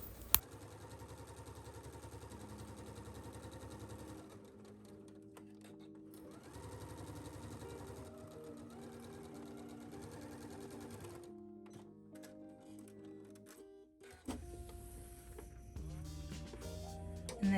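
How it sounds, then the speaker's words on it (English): A home sewing machine stitches a fabric strap seam at a 3/8 inch allowance, its rapid mechanical whir running in long bursts with brief pauses and a change in pace toward the end, close and clear with no talking. "you're going to sew this up at 3/8 of an inch seam allowance"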